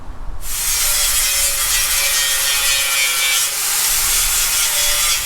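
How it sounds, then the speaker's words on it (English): Grinding on the subframe of a 1967-69 Camaro or Firebird, a loud, steady abrasive hiss and rasp that starts abruptly and runs unbroken, close up, with no one speaking. "So now we're going to get grinding."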